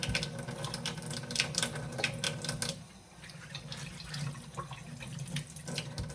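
Tap water runs steadily into a sink as ears of fresh corn are rinsed one at a time, with splashing and intermittent clatter, a short lull midway, then running water again, close and fairly quiet.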